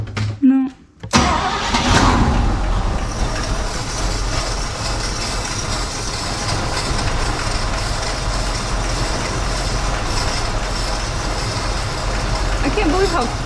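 A 1965 Chevy C10 pickup engine cranks briefly, then catches and settles into a steady, fairly quiet idle that runs close by without a break.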